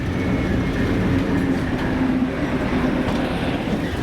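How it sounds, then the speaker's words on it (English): A Class 73 locomotive pulls a train steadily past on a heritage railway, a continuous low rumble with a faint hum and light rail clatter, fairly loud and without any voices. "here we've got our resident class 73 pulling the train in"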